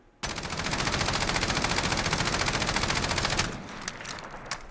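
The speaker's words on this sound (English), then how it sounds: "what I'm going to do is just let this rip full auto, and I'm not going to control my recoil at all" IWI Tavor TAR-21 rifle in Call of Duty Modern Warfare firing one long unbroken full-auto burst, a dense rapid rattle of shots that stops abruptly, followed by faint clicks and mechanical noises.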